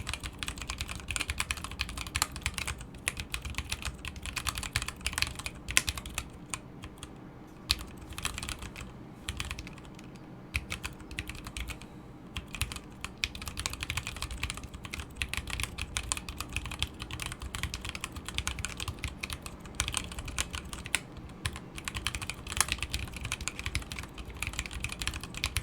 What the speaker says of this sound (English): And we'll go back to the typing test.